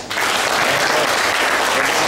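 Dense, steady applause from a congress audience at a patriotic gathering in Braniewo, Poland, a continuous wash of clapping at full strength throughout.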